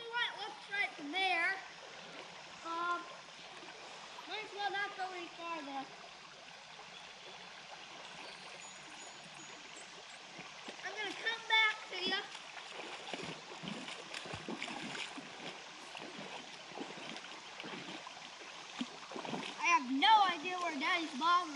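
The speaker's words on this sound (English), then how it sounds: "And here's the waterfall." A waterfall on the Salamonie River in Huntington County, Indiana, gives a soft, steady rush in the background while people talk over it throughout.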